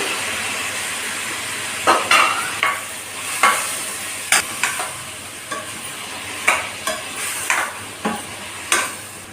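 Tomato pieces cook with turmeric over onions in a pan for a gangavalli-leaf tomato curry. A low sizzle runs under about a dozen sharp spatula scrapes and clinks at an irregular pace, close and without speech.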